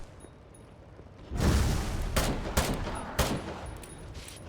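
Gunfire from a weapon in the survival game Miscreated: after a quiet start, a loud, dense burst erupts, followed by several sharp, separate reports over a rumbling, noisy background.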